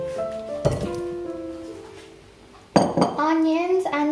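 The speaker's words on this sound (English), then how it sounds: "Let's add all the ingredients in the bowl." Chopped potatoes, onions and chili tipped into a bowl in a home kitchen, two distinct clinking clatters of utensil against dish with ringing tones, separated by a quiet pause.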